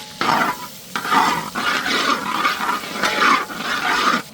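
Capsicum and two green chillies sizzle and fry in a pan for egg chicken fried rice, with loud repeated scraping bursts from stirring over a constant hiss and no talking.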